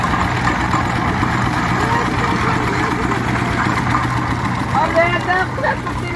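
A motorcycle engine, kick-started during jaggery making, idles steadily close by with a constant low throbbing hum while voices talk over it throughout.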